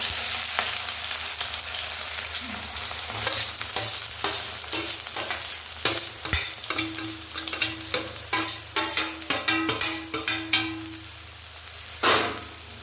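Roughly cut spring onion sautéing in a pan for a traditional village-style bhaji: a continuous close sizzle with rhythmic stirring scrapes and clatter that grow busier toward the end, with no voices.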